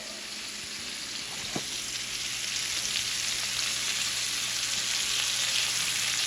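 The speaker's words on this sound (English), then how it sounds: "All right, so give your shrimp a nice flip." Shrimp frying in a pan give a steady, close sizzle with a dense hiss that grows slightly louder, and a single sharp knock or clink partway through. No one speaks.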